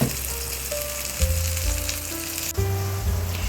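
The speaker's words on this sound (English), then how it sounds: "Now I'm frying some onions and peppers." Onions, green, red and orange peppers and mushrooms fry on a griddle with a loud, steady, continuous sizzle, close up and without any talking.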